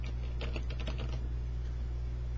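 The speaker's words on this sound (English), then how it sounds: "I'll type their name in there." A name typed on a computer keyboard: a short burst of quick, close key clicks that fades into quiet room hum.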